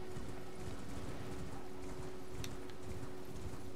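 Horse hooves clip-clopping in the Elden Ring video game, a faint, quick, regular clatter of steps under a steady background hum, with a brief brighter tap midway.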